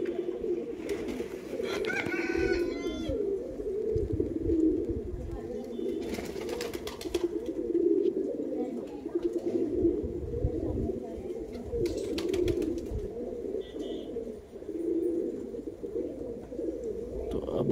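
Pigeons coo continuously in low, throaty, overlapping murmurs, close by, with a few brief rustles and flutters.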